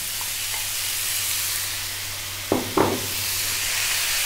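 Kale and mushrooms stirred in a frying pan, a steady low sizzle throughout with two brief scraping stirs of the spoon near the end, close and moderately loud with no talk.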